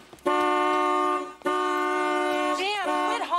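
A car horn blares in two long, loud, sustained honks, the second trailing into a wavering, uneven tone near the end.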